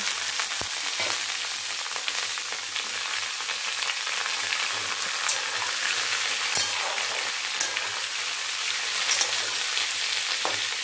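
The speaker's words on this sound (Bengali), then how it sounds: "তো এখন এগুলো দিয়ে আবার একটু ভাজাভাজি করে নেব" Cauliflower, beans, carrots, tomato and peas stir-fried in a hot pan make a loud, unbroken sizzle up close, with occasional scrapes and knocks of the spatula and no talking.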